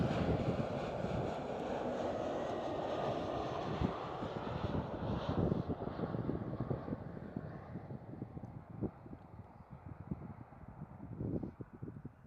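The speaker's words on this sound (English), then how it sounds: "The KLM Cityhopper E190 just arrived." KLM Cityhopper Embraer E190 jet arriving at Schiphol, Amsterdam: a faint, distant engine roar that fades away over the clip, with wind buffeting the microphone and brief rumbling bursts.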